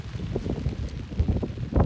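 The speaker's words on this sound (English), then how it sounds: "It's a little windy today" Gusty wind buffeting a microphone on an Alaska ridge during a caribou hunt, low rumbling gusts rising and falling with faint rustling, no voices.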